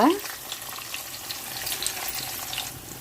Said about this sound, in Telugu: పోపులు వేగినాయి ఇప్పుడు కొంచెం ఇంగువ